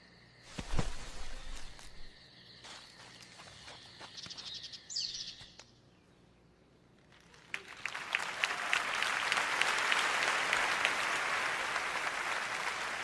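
AI-generated forest ambience: faint scattered crackles and chirps early on, then a swelling, dense wash of insect buzzing and chirping that fills the second half at a steady level.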